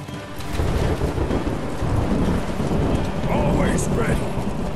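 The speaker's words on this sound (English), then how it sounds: "Looks like this storm has set us all off the course." A thunderstorm rages in the Ancestors Legacy strategy game: steady heavy rain pours throughout under a low, rolling thunder rumble, loud and continuous for the whole stretch.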